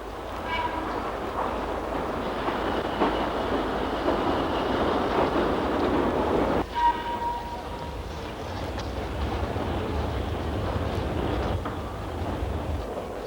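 Electric trains run on a Sydney railway during the morning peak, with a steady broadband rumble throughout. A brief whistle-like tone sounds around the middle, and a voice narrates over the train noise.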